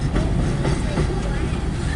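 CN M384 freight train rolling past with boxcars, a dense continuous rumble and rattle of cars close by, with a voice faintly under the noise.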